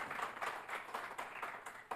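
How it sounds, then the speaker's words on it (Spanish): A church congregation applauds together during a Christian worship service, a steady wash of many hands clapping that sounds faint and distant throughout. "dale un fuerte aplauso al Rey"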